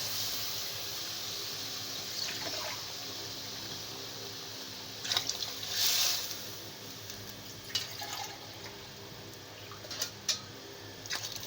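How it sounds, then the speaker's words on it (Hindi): Water pours from a glass into a cooking pot for chana pulao, faint and sporadic splashes and gurgles over low room noise, with no talking. "अब हम इसके अंदर पानी ऐड करते हैं।"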